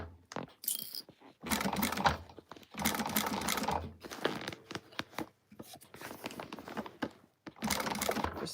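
A sewing machine stitches around the edge of a quilted bag in bursts of rapid mechanical clatter, several runs broken by short pauses, fairly close.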